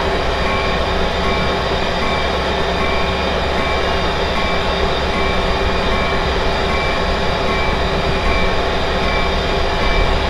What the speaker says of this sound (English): Just missed the train there.